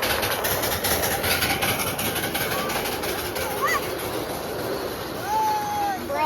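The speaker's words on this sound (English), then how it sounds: "it's the birthday train." A small ride-on birthday train runs at Tradewinds and Atlantic Railroad, its engine humming steadily with faint wheel squeals while people talk nearby.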